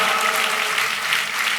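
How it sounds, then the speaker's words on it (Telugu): A church congregation claps together in a thick, continuous wash of applause, loud and close, with no voices standing out. "కొట్టు గట్టిగా చప్పట్లు"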